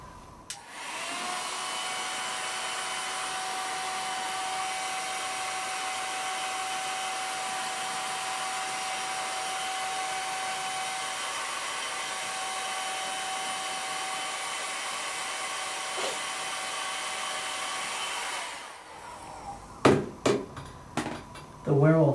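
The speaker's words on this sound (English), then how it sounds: "So I'm going to blow some air in that." A hair dryer blows air onto FX makeup for a werewolf-victim look, a steady loud whooshing hum that runs without a break for about eighteen seconds before it cuts off, followed by a few soft knocks.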